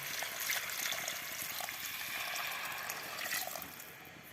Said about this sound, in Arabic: نزلنا الرز وقلبنا، وهننزل بشوية مية.